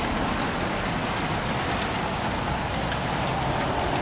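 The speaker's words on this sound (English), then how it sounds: "and rain coming down." Heavy rain mixed with hail pours down steadily during a mountain thunderstorm near Raton, New Mexico, a dense, close hiss of drops hitting surfaces with no voices.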